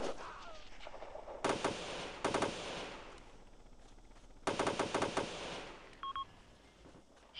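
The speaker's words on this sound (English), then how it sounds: "Enemy machine gun at 100 meters." Machine-gun fire in the video game America's Army rattles in a few rapid bursts separated by quieter stretches, fairly loud against a steady background, with a short electronic beep near the end.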